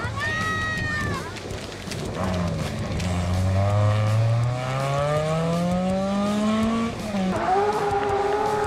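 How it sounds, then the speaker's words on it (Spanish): A Porsche 911 of the 997 generation, prepared as a rally car, launches hard at a stage start on a Spanish rally, its engine climbing through loud rising revs with gear changes, under an excited commentator's voice. "Salida potente de Clemente, de estreno con el Porsche 911, carrocería 997"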